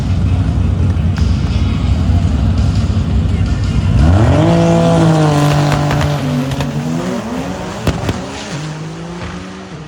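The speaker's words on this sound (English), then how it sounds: "Big wheelie for Miles, and he goes" A drag-racing street car launches down the strip at a TX2K event, a loud roaring engine climbing through rising revs and shifts as it pulls away, with a steady crowd and track roar underneath and an announcer talking.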